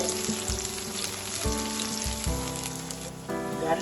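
Chopped garlic sizzles in a pan of hot oil, a continuous close crackle with a few soft bumps and utensil knocks, and no voices.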